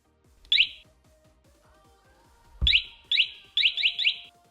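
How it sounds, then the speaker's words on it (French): A motorcycle alarm siren sounds in short, loud electronic chirping bursts, one early then a run of four close together, with a faint mechanical ticking beneath. "Je vais donc brancher la sirène pour que vous entendiez le son que cela fait."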